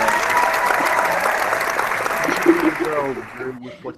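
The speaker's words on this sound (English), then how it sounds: "Round of applause for Bloodstainedfur" Round of applause for a contestant during a playful podcast debate, steady broadband clapping that fills most of the stretch, with a voice breaking in near the end as the clapping tapers off.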